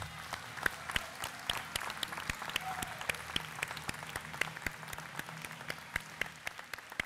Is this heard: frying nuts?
no